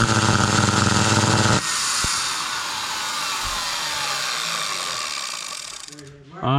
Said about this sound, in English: my router here started to make a funny noise